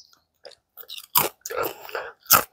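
Crispy homemade fries from the garden crunch between the teeth, a few loud close bites followed by brisk crunchy chewing bursts, with no talk.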